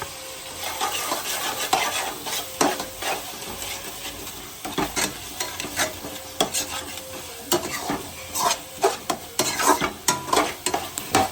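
Ginger garlic paste fries in a hot pan for a prawn curry, a continuous sizzle broken by repeated scraping strokes and knocks of a spoon stirring it, close and fairly loud.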